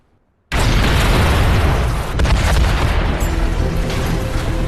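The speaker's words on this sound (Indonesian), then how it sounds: "mobil milik Pak Direktur meledak dan menewaskannya tepat di depan mata Sean sendiri" A car in a film blows up with a sudden, massive blast after a near-silent start. A sustained, roaring rumble of fire and debris follows, with a second surge partway through.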